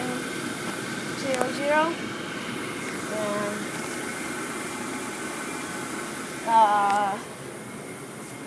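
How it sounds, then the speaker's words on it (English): A Rheem Imperial 80 Plus gas furnace blower runs as a steady broadband whoosh with a faint hum underneath, continuing behind someone talking for most of the stretch. "The blower turned on about a minute before I started the video."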